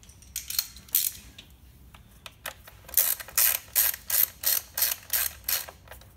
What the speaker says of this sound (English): We've got to tighten up those bolts now